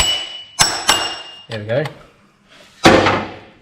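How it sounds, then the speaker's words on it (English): Sharp metallic knocks on the front of a Hilux engine pulley being loosened from its taper, a few distinct close strikes spaced apart, with someone speaking briefly between them. "just knock on the front of the pulley a little bit"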